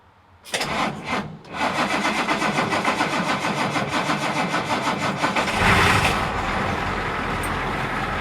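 Mini excavator engine cranking briefly, stalling, then catching on the second try and settling into a steady diesel idle, with a short rev swell before easing back, close and loud.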